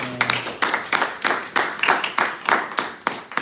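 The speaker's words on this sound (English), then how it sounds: "Let's give our panel a round of applause." A small audience claps for a discussion panel, a sparse run of about a dozen distinct, close hand claps spaced unevenly over a few seconds.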